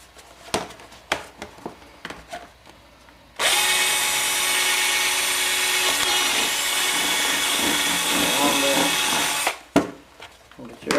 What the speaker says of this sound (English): Get your stripping basket and drill your hole.